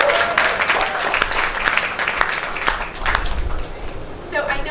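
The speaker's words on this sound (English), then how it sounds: "Everyone, they deserve a round of applause." Audience applause at a marketing analytics panel, dense clapping with a murmur of voices and cheers mixed in, fairly close and steady for a few seconds.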